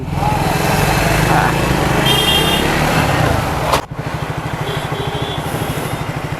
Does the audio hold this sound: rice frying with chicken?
no